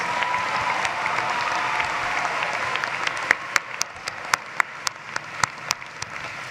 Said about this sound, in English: Let's give a round of applause for our international business graduates